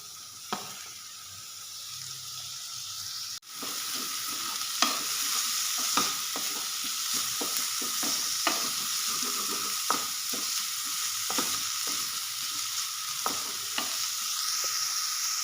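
Finely chopped onions fry in a pan for homemade vegetable soup, a steady close sizzle broken by repeated sharp clicks and scrapes of stirring, with no talking.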